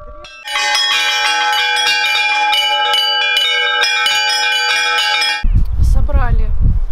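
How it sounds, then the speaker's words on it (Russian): Church bells ring loudly in a steady, rapid pattern of overlapping strikes at an Orthodox Easter celebration in Altai, stopping abruptly as wind buffets the recording and a voice speaks briefly. "Во всех церквях каждый мог позвонить в колокол."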